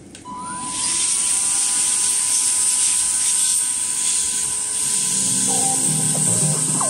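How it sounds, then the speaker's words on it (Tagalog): A Pery Smith Extreme XS1 cordless handheld vacuum, used as a blower, spins up and runs with a steady high-pitched whine and airy hiss, close and constant, with a faint voice murmuring toward the end. "Blower lang muna tayo para lumuwag yung mga particles dun sa ilalim."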